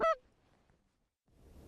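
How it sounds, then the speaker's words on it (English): A single loud, close Canada goose honk opens, followed by near quiet and a faint low rumble of wind or movement, as skeins fly over a field. "Skein after skein of geese coming out of the east."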